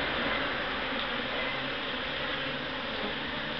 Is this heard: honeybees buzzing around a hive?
yes